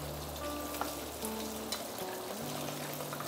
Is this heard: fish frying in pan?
yes